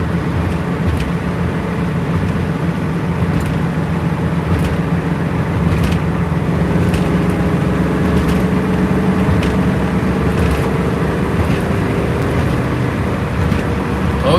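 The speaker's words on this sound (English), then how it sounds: "I'm probably going about half throttle and this thing really takes off" A Mustang accelerates hard at about half throttle, its engine roaring in a steady, loud, continuous wash of sound from inside the car, with road and wind noise and no speech.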